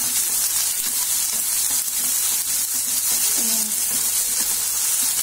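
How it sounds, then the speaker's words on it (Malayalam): Onions and green chillies sautéing in oil for a Kerala-style ladies finger semi gravy, a steady close sizzle with occasional stirring scrapes of a spoon in the pan. "ഓയിലായിട്ടൊന്ന് നന്നായിട്ട് ചേർത്തെടുത്ത് അതിൻ്റെ ഒരു പച്ചമണം മാറുന്ന വരെ ഒന്ന് വഷക്കിയെടുക്കണം"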